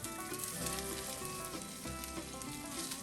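Sausage and coleslaw sizzle steadily in a pan while being browned and pressed down, a loud continuous frying hiss with occasional scraping stirs and no talking.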